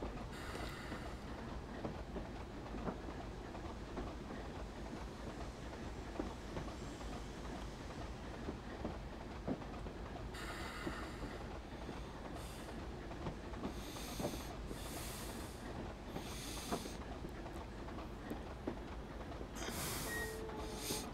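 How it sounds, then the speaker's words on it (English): A Class 25 train on the Weardale and Teesdale network passes, a faint, steady rumble with soft rhythmic clicks and hissing that swells in brief bursts over about twenty seconds. "it's a passing train"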